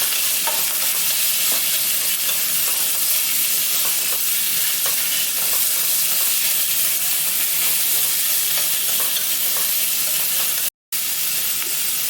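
Meat stir-fries in garlic and ginger oil in a wok, giving a loud, steady sizzle with the light scrape of stirring throughout and no talking.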